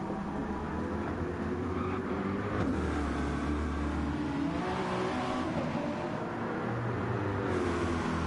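A hypercar engine in Gran Turismo 7 at Le Mans roars loud and steady, the pitch swelling and sliding as the car comes through and passes other racing cars.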